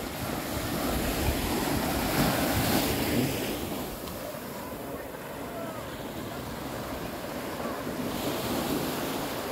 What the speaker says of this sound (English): The ocean is right here for you.